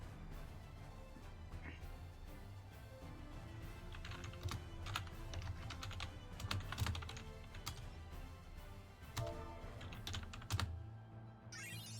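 Typing on a computer keyboard, a steady, faint clatter of quick key clicks running throughout over low background music.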